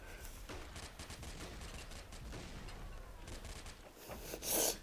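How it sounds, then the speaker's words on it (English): A machine gun fires in CS:GO in rapid, continuous bursts of loud cracks over several seconds, ending in a brief louder blast. "It's a machine gun."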